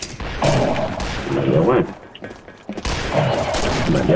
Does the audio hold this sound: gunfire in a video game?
yes